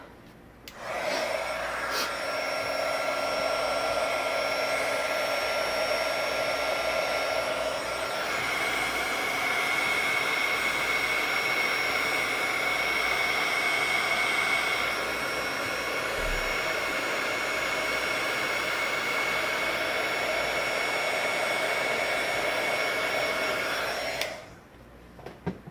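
A heat tool melts embossing powder on a Halloween card, blowing a steady, close whooshing hum for about twenty-two seconds before it clicks off, with no talk.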